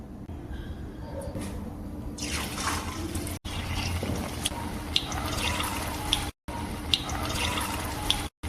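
Cooking oil is poured into a pan for frying pakoras, giving a steady liquid trickle and pour with a few faint drips and brief dropouts.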